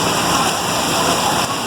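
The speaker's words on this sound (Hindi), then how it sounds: "ये देखा कैसी बारिश हो रही है" Heavy rain pours down in Karachi, a dense, steady roar of falling water that fills the short stretch with no pause and no talking.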